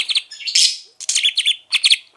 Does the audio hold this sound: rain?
no